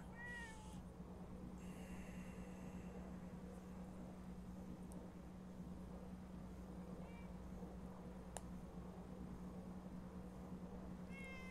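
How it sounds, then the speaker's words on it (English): Several cats meow indoors, a few short rising calls early on and a couple more later, fairly close but faint over a steady low electrical hum. "Kitties."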